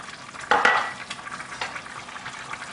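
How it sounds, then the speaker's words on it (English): Curry spices (turmeric, coriander powder, cumin, garam masala and allspice) stirred and frying in a pan for a curry base sauce: a brief loud scrape and sizzle, then softer stirring over a low steady fry, with no talking. "And you want to give that a good mix."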